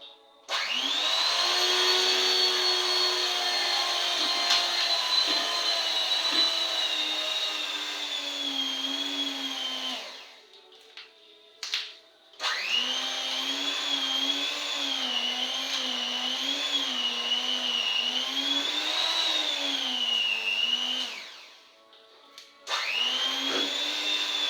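An electric mixer blending food whines loudly and steadily, its motor pitch wavering as it works. It runs for about ten seconds, stops briefly, then runs again before a second short pause.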